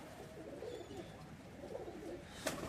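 Soft, low pigeon cooing murmurs steadily against a faint background hiss, with a brief sharp noise near the end.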